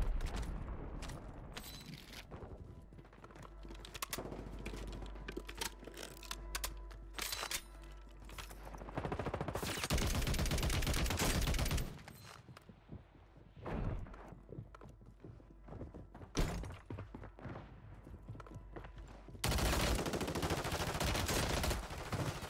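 Gunfire in the battle-royale shooter Warzone: rapid automatic bursts and sharp shots in dense clusters, loud and close, separated by brief quieter gaps with footsteps and movement.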